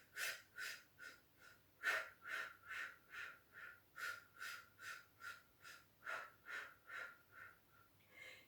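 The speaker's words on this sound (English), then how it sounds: "breathing in for a count of 5 and out for a count of 5 as we pump the arms" Rhythmic, steady breath pulses repeat about twice a second, close and faint, like short forceful exhalations paced with arm pumping during a beginner Pilates exercise on a mat.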